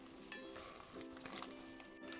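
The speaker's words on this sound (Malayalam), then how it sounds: "എരുന്ത് ഇടയ്ക്കൊന്ന് ഇതുപോലെ ഇളക്കി കൊടുക്കാം." Clams cooking dry over a medium flame in a pan for a coconut clam curry, giving a steady soft sizzle with scraping and light clinks as the pan is stirred. No one speaks.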